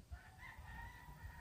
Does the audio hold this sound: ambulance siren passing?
no